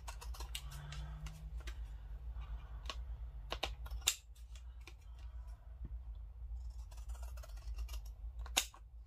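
Scissors trimming a paper plum pudding piece of Christmas journal ephemera, a series of crisp, close snips and paper rustles spaced irregularly at a quiet level, with no talking.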